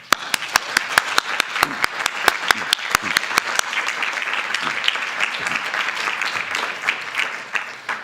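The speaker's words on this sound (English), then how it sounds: "So let's get a clap for that" Audience applause at a school board meeting, starting with sharp distinct claps that build into sustained, dense clapping across the room before tapering slightly near the end.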